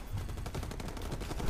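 Minigun gunfire in R.I.P.D. The Game, a quiet, steady stream of rapid shots blending into a continuous low rattle with no gaps across the short stretch.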